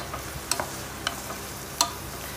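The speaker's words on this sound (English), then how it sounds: "So just cook it on high flame for some time." Gobi cauliflower manchurian stir-fries in a pan on high flame, a steady soft sizzle broken by a few sharp clicks of a spatula against the pan.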